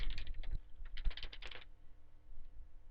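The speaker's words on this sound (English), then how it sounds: "I simply typed in my last name." A quick burst of keystrokes on a computer keyboard types a last name, close and crisp clicks in two short clusters, then quiet room hum.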